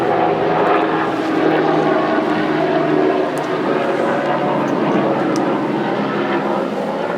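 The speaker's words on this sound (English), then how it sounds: "Helicopter." A helicopter flies steadily overhead with a loud, continuous rotor and engine roar that holds at an even level throughout.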